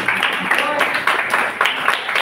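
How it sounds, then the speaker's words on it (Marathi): Audience clapping for a team at an Independence Day event, a brief bout of moderate applause in rhythmic bursts with voices talking over it. "आपण त्यांच्यासाठी टाळ्या वाजवूया"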